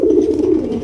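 Deshi pigeons at a market coo in a short, steady, close-up burst, loud and continuous, with no talk over it.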